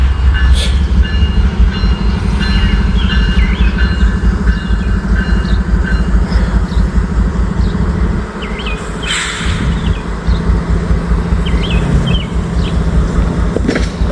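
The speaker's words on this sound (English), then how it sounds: "There sounds like there's so many trains behind this." A long freight train rolls past a level crossing in Wyoming, its wheels rumbling loud and steady. Faint bird calls sound in the background. The train noise dips only briefly before carrying on.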